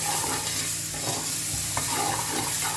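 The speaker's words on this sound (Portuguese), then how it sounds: "E aqui na frigideira eu vou colocar a cebola" Onion frying in a frying pan, a steady close sizzle with occasional stirring scrapes and a low hum underneath, no one talking.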